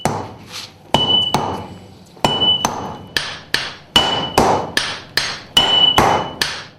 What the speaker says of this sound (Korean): 리듬에 맞춰 2kg이 넘는 매를 자유자재로 다뤄야 하는 고된 작업